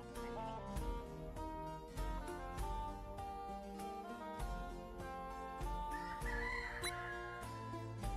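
Chickens cluck and crow in the cozy turn-based townbuilder game dotAGE, the bird sounds sitting over steady rhythmic background music with regular beats.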